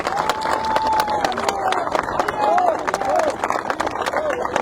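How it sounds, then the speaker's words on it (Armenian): A crowd at an outdoor political campaign rally claps and applauds in a sustained burst, with cheering and chatter mixed in, while a few whistle-like tones rise above the noise. "եկեք մի հատ ծափերով իրար ողջունենք"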